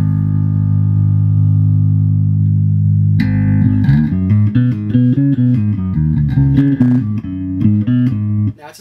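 A Birdsong Corto3 short-scale bass with neck and bridge pickups together opens on a sustained low note, then a steady run of plucked notes and riffs follows, loud, close and without talk.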